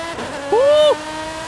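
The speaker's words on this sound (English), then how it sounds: "this is the Essenza SCV12. Oh my God, it sounds good" A Lamborghini Essenza SCV12 engine in Forza Horizon 5, driven with a steering wheel, gives a short, loud rising rev whine over a steady engine drone.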